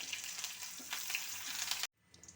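Ginger, garlic and curry leaves fry in oil for a Kerala soya curry, a soft continuous sizzle with small crackles that drops out abruptly near the end, followed by a faint resumed hiss.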